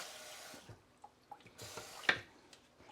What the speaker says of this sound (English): Give this a quick rinse.